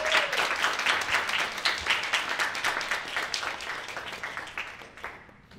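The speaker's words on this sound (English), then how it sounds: "give a big round of applause for Jeanette Ricasio and Richie Nguyen" Audience applause and clapping at a youth art jam performance for two performers, a dense steady crowd clapping that holds for several seconds before thinning and fading out at the end.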